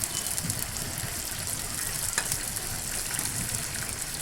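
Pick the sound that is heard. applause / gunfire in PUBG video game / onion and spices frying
onion and spices frying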